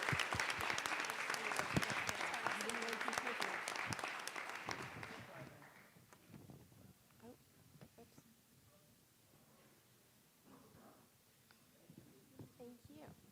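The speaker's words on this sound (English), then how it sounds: "Let's give one more round of applause for Congresswoman." An audience applauds a congresswoman, loud sustained clapping for about five seconds before it fades into scattered claps, murmurs and room noise.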